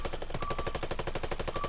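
Rapid sustained burst of suppressed UMP fire in a video game with a silencer attached, a fast even stream of muffled shots filling the whole moment, loud and close with no talk.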